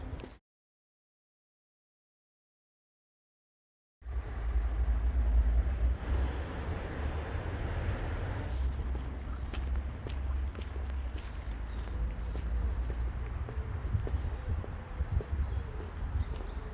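A Rover 416 running with its exhaust back box removed, blowing as a steady low rumble that continues throughout after a brief silent gap at the start, with no talk over it.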